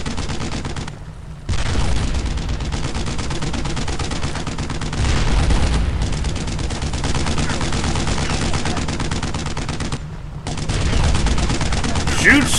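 Dense gunfire rattles through a World War II tank fight in the Brothers in Arms: Road to Hill 30 video game, with sustained bursts that briefly drop out twice before the shooting resumes.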